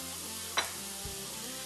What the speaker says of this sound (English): As our steak continues to sizzle